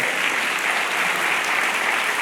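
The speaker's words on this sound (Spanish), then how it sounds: "Vamos, dale más fuertes aplausos, adóralo" A church congregation applauds during worship, dense and steady, a sustained roar of many hands clapping without pause.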